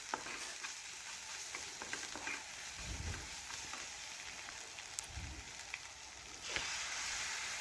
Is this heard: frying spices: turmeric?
yes